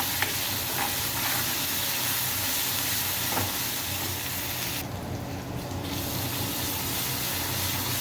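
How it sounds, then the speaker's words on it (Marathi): Masala for Khandesh-style chicken roasts in a pan with a loud, steady sizzling hiss that barely changes throughout, close up, with a brief dip in brightness partway through. "आता मसाला छान भाजून घेऊया."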